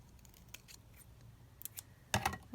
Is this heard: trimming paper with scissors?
yes